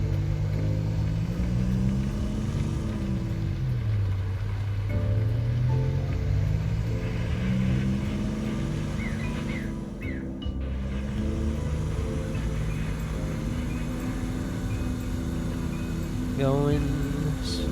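A delivery truck engine drones steadily while driving fast through snow in Easy Delivery Co, its pitch rising and falling with throttle changes under a continuous rumble.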